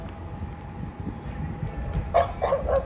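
Dog barking in a Hamilton suburban neighborhood: a quick run of three or four barks at moderate distance, breaking out over steady street background after a quiet stretch.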